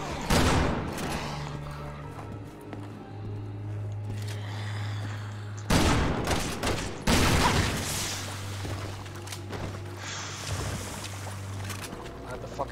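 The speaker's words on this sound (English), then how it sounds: "the fucking shotgun is about as effective as Harf's language" Gunfire bursts in the Resident Evil 6 video game, with loud shotgun blasts near the start and middle over a dense, noisy game soundscape with a steady low drone, while players talk over it.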